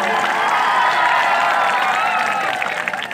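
Crowd at an outdoor Utkal Divas celebration in Odisha applauding loudly, continuous dense clapping with cheering mixed in, sustained at full volume throughout.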